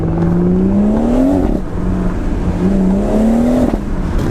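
A BMW M140i with a double resonator delete revs twice up close, each blip rising in pitch and dropping away, with a throaty idle between.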